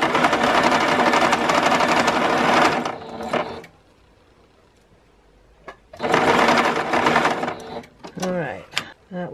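Sewing machine stitching fabric for a stuffed bear, two loud, fast, steady whirring runs separated by a pause, with someone speaking briefly between and after the bursts.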